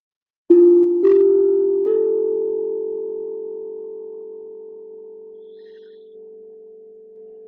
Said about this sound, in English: I'll hit the drum, and to those tones, we will say the mantra